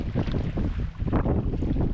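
Strong wind buffets the microphone, a loud continuous roar with gusty rumbling, out on choppy, high water in Quetico.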